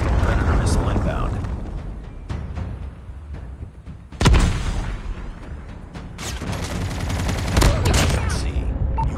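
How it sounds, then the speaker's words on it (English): A Predator missile strike in Call of Duty: Mobile lands as a heavy, rumbling explosion amid continuous gunfire and battle noise in a multiplayer Domination match, with announcer voices over the din. "Hostile Predator missile inbound."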